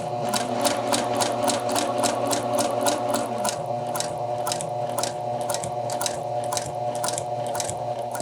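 A sewing machine stitches a bound buttonhole, overlapping an earlier line of stitching, running steadily and loudly throughout with a fast, even rhythm of needle strokes and no voices.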